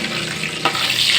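Fish sizzles steadily in hot oil, salted first to tame the spatter, with a brief sharper crackle of splattering partway through and a continuous bright hiss throughout.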